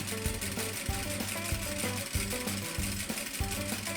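A sewing machine stitches a back tack on fabric while a zipper pouch is sewn, its rapid mechanical needle rhythm running steadily and close throughout, pausing briefly as the stitching reverses.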